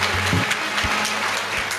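Crowd clapping at a Marathi kirtan, a steady wash of applause with a few low thumps, likely from a drum or microphone knocks, and no talk over it.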